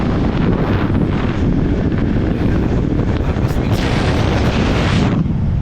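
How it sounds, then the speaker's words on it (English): Strong wind roars and buffets against the microphone, a loud continuous rumble with gusting surges throughout. "It was quite windy that day."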